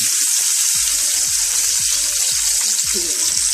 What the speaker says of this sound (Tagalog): Okay, ato sa ning patuyos-tuyoson gamay ang kamatis.